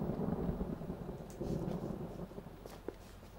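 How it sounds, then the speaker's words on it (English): A thunderstorm rolls on with steady rain hissing and pattering on surfaces while low thunder rumbles in the distance, a sharper crack near the end, no voices. "Besides, there's a storm brewing."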